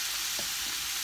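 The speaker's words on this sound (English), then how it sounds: "we're going to put in some of that cauliflower" Cauliflower pieces go into a pan of frying turkey curry, giving a steady, close sizzle with a brief stirring clatter partway through.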